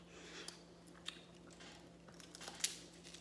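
Someone bites and chews Dungeness crab, with faint crunches and cracking of shell, one sharper snap near the end, heard close against a low steady hum.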